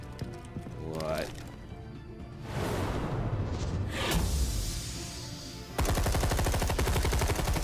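Gunfire bursts out in Batman: The Telltale Series, with several sharp shots and a dense rapid volley near the end, mixed with game sound and voices.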